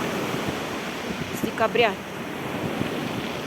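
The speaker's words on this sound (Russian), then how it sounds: "И волны." Sea waves wash onto the shore at Gagra as a steady, close hiss of surf mixed with wind noise, with a voice briefly speaking over it.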